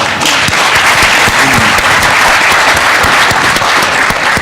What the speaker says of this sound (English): I would like you to give a clap for all Gambians